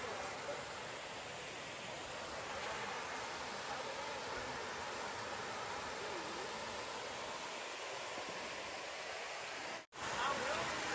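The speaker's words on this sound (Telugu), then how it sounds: "ఫ్రెండ్స్ వాటర్ ఫాల్స్ దగ్గరికి వచ్చేసినాం. ఇవే వాటర్ ఫాల్స్." Waterfall at Tatiguda in Ananthagiri, a steady broadband roar of falling water that fills the whole clip at an even level, heard close, with one brief dropout near the end and no talk.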